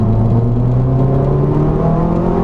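A turbocharged Ford Focus ZX3 engine revs up hard and close, its note rising steadily as the car accelerates, loud and unbroken with no talk over it.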